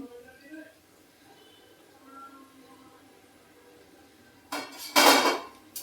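Fried crispy gobi for Gobi Manchurian lifted from a pan onto a plate, with near, loud clatters of utensils and dishes toward the end after a quiet stretch with faint background sounds.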